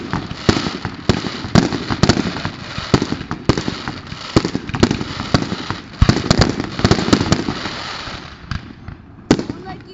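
Fireworks bursting over downtown Calgary, a rapid irregular series of sharp bangs and crackling pops of varying loudness, some near and some distant, with a crowd's murmur and voices underneath.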